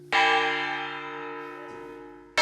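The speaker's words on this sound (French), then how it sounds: "Il teste avec jubilation la qualité musicale de la cloche." A restored historic church bell in a village church, struck once to test its tone, ringing with a bright, sustained cluster of partials that slowly decays before a second strike at the very end.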